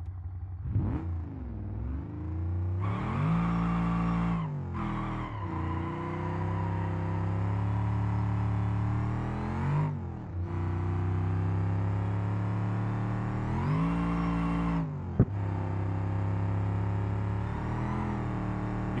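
A muscle car in BeamNG with nitrous engaged revs and accelerates hard in repeated rising pulls through the gears, loud and close, with short lifts and shifts between surges.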